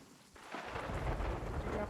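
Rain and a rumble of thunder fill a video game scene, a steady dense wash of rainfall that swells louder after a quiet start and holds at a constant level.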